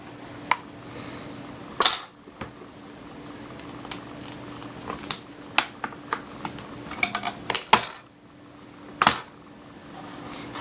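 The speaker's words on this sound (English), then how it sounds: "Can you hear that popping? Those are the clips opening." Plastic clips of a Herotab M802 tablet case pop open one after another, giving sharp, close clicks and snaps scattered irregularly over a quiet background.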